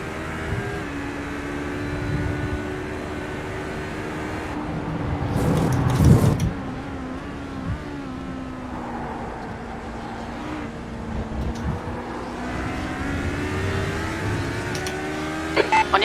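Race cars from the iRacing 24-hour Le Mans team race, including GTE and LMP classes, drone and pass in a continuous engine hum with rising and falling pitch, with a louder surge around the middle.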